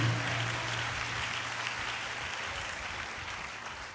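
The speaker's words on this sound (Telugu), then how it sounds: "చప్పట్లు కొడుతూ దేవుని మహింపరుద్దాం గట్టిగా" A church congregation clapping together loudly as a sustained, dense burst of applause, steady throughout and without speech over it.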